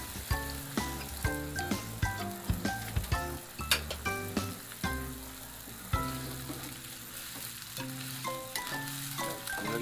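Pineapple pieces sizzle in a pan with adobong scallops, a continuous gentle frying hiss beneath a bright melodic music track of plucked notes.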